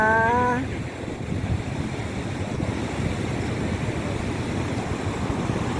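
Niagara Falls roars as a broad, steady rush of falling water, close and loud, with a brief tonal whine at the very start before the constant wash takes over.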